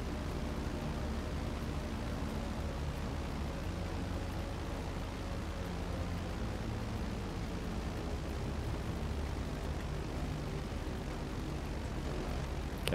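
A large airplane in GTA gives off a steady, loud, broadband engine roar. It drones on unchanged and close, with no talk over it.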